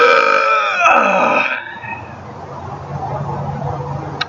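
A single weak, throaty burp from a man, about a second and a half long, tails off into quiet room noise with a tiny click at the end.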